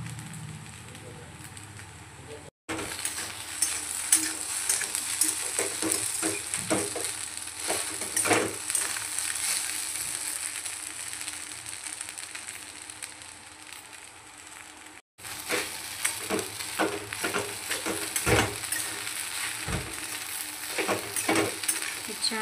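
Sabudana khichdi stirring and frying in a pan: a steady low sizzle broken by repeated scraping strokes of the spoon, close up, with a brief pause partway through and no talking.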